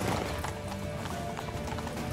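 Horse hooves clip-clopping at a steady gallop in The Witcher 3: Wild Hunt, a loud rhythmic beat over dense game background noise, with a brief whinny-like texture and no talk.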